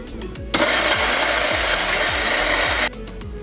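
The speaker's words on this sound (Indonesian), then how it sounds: "saya akan giling untuk cuppingnya di scale nomor 4 ya, kira-kira medium grind lah ya" An electric coffee grinder runs briefly, grinding Arabica Mamasa beans from Sambabo Coffee to a medium grind at setting 4. It gives a loud, steady, gritty whir for about two seconds, with a low motor hum before and after.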